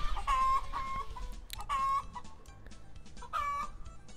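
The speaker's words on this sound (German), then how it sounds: "Oh, das ist cool, dass die Hühner wegrennen." Chickens cluck and squawk in the farming video game Agrar Simulator 2013, three bursts of clucking spaced a second or so apart over a low engine rumble.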